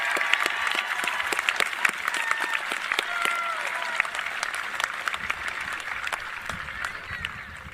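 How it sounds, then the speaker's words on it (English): A high school graduation crowd applauds the graduates' parents and grandparents with continuous, dense clapping from a large gathering, steady in level throughout with faint scattered cheering mixed in. "Please join me in giving these people a round of applause."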